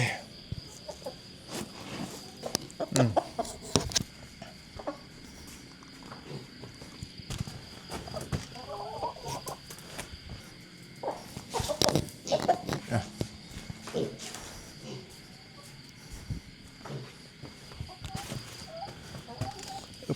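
Pet chickens cluck intermittently in short soft bursts at a country garden home, mixed with scattered rustling and knocks while a person talks throughout.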